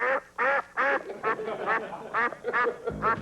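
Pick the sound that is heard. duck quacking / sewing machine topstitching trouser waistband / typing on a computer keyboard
duck quacking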